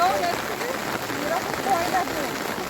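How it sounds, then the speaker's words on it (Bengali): Rain falls steadily in a continuous hiss, fairly close and even throughout, with no talking heard. "নদী এলাকায় এরকম বৃষ্টি বৃষ্টি"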